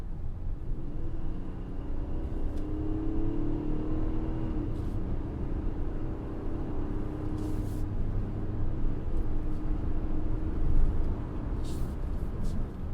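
An Infiniti QX60 with a naturally aspirated V6 drives along twisty back roads, giving a steady interior rumble of engine and road noise that swells slightly as the car speeds up, with no speech.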